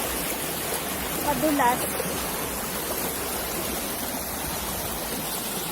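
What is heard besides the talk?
rushing river water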